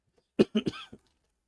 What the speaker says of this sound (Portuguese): peço desculpas pela tosse